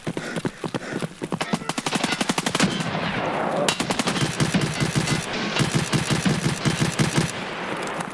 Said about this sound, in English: I'm just gonna run towards that shooting.